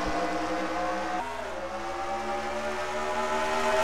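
Racing trucks in a simulated truck series race at Rockingham, North Carolina, accelerate together from the green-flag start, a loud, sustained, layered engine drone with shifting pitch and no voices.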